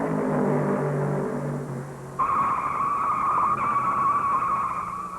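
A 1970 NASCAR Grand National stock car at Darlington Raceway loops and spins down the backstretch, one engine roar falling away before a sustained high tire squeal takes over, loud and close with no talk.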